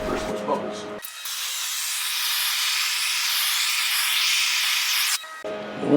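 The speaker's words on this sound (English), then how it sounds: "now I'm going to take the torch and you'll see how it bursts those bubbles." A torch flame plays over fresh epoxy resin on a round ocean-style table, bursting surface bubbles: a loud, steady roaring hiss for about four seconds, cut off sharply at both ends.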